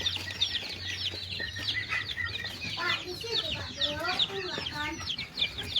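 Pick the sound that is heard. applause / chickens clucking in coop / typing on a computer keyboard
chickens clucking in coop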